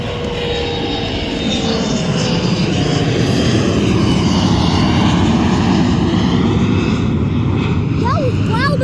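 An airplane passes overhead near a freight rail line, a loud, steady engine roar that fills the whole stretch and swells slightly toward the end, with a voice exclaiming over it.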